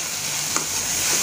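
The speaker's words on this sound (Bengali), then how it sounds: "এই শুকিটা গলে না যাওয়া পর্যন্ত নাড়িয়ে নেবে এবং ভেজে নেবে" Sidol shutki, large dried fish, frying in a pan while being stirred, giving a steady close sizzle with one soft scrape of the spatula and no talking.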